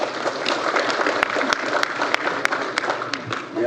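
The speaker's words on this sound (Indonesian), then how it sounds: "Bu Titi, tepuk tangan untuk beliau" An indoor audience at an official agricultural cooperation signing ceremony in Indonesia applauds Commission 4's chair with steady dense clapping throughout, and a few sharp louder claps stand out near the front.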